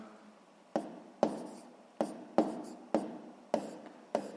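A pen writes fractions by hand in a series of about eight short, crisp strokes, each one sharp at the start and quickly fading, spaced at an irregular rhythm against near silence.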